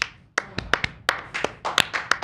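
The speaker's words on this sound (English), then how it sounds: "You get a real clap for that." Hands clap in an uneven run of sharp, close slaps, about a dozen over two seconds with irregular spacing, no talking over them.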